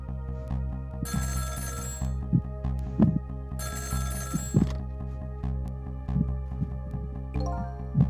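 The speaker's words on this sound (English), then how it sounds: "the phone rang." A telephone rings in a video game, two bright ringing bursts a couple of seconds apart over a steady musical backdrop with soft thuds.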